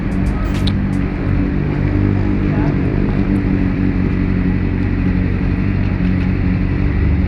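Motorcycle engine droning loud and steady in first gear while practising wheelies outdoors, a continuous low rumble close by with voices talking over it.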